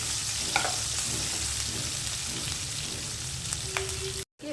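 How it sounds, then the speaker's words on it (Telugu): Onions and green chillies fry in a pan, giving a steady close sizzle with occasional stirring scrapes throughout. "ఇవి వేసుకొని జస్ట్ 1 మినిట్ వేయించుకోవాలి."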